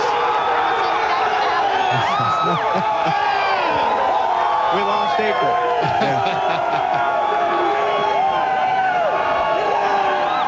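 A large crowd roars at the 2002 Chevy Monte Carlo 400 NASCAR race at Richmond, a dense, loud and continuous wash of cheering, with a voice talking over it.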